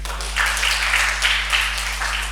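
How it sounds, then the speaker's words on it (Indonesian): A church congregation applauds together, a soft, steady wash of clapping that swells slightly in places and holds at a moderate level over a low electrical hum. "Boleh kita kasih tepuk tangan."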